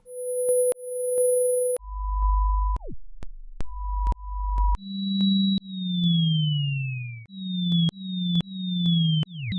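Chiptune-style 8-bit synthesized tones from a free sound maker, a run of beeps and falling chirps with vibrato wobbling the pitch, some bursts over a low buzzy layer, clean and loud with no talking.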